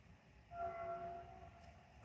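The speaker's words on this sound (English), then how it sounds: "Train making some crazy noises outside." A train sounds outside, a faint, distant tonal horn-like drone swelling briefly over low background rumble, quiet and far off with no talk.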